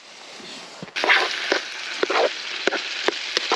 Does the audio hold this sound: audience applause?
no